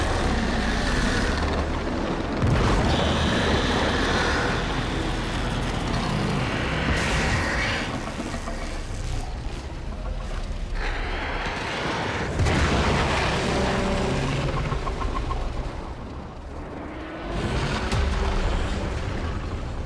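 Booming explosions in the Warframe video game roll out loudly at intervals, heavy rumbling blasts layered with mechanical clatter and a continuous dense game soundscape.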